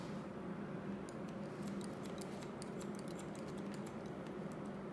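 Barber's scissors snip quickly and lightly during a classic men's haircut: a rapid series of faint, crisp cuts in irregular bursts, close by over a soft room background.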